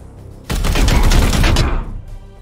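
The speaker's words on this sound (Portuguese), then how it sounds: "tiro dele dá bastante dano." Rapid gunfire bursts in the turn-based tactics game Warhammer 40,000: Chaos Gate - Daemonhunters, a loud close volley of dense shots lasting about a second and a half before cutting off.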